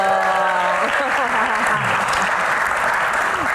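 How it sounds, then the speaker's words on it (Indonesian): An audience at a comedy Q&A claps again on request, a loud, continuous sheet of applause with a voice speaking over the first half before the clapping carries on alone. "tepuk tangan lagi dong"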